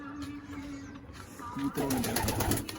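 Soft, low pigeon coos come in short rolling phrases over faint background noise and a distant voice.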